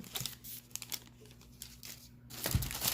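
Elephant-print wrapping paper inside a standard sneaker box for Air Jordan 3 Tinker shoes, crinkled and rustled by hand in close, uneven bursts, louder toward the end.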